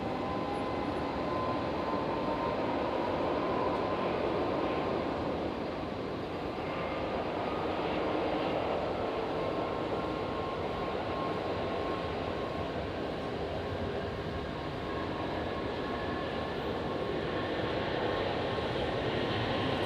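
An Emirates airliner bound for Dubai on its takeoff roll down runway 01 right at Brisbane International Airport on a stormy night, a steady distant engine roar filling the air without a break.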